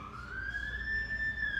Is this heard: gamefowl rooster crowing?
no